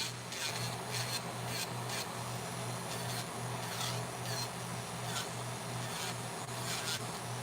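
An electric nail file bit grinds down acrylic nails in a steady, faint buzzing whir with repeated light rasping strokes and no talking.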